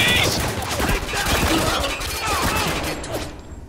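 Gunfire in a firefight from the video game Spec Ops: The Line, a dense, continuous clatter of shots layered with crashing impacts and voices, loud throughout before thinning out at the end.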